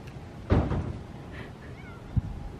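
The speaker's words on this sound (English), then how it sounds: "Meow." A cat gives a short meow, then a second faint, brief one a moment later, close by in a quiet room.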